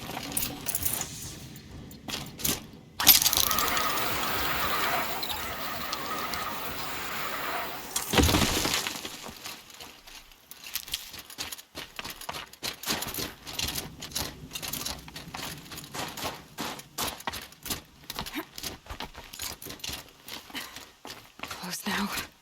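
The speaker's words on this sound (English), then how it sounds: "Now take the zip line and work your way down to the valley." In Horizon Zero Dawn: The Frozen Wilds, a character rides a zip line down into a valley. A sustained whirring slide lasts several seconds, then gives way to a busy run of clicks and footsteps.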